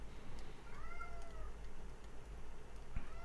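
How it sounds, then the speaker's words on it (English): A cat meows, with gliding, drawn-out cries in the first half and a short chirp near the end, over a steady low hum in the background. "I'm so happy I taught the cat to talk."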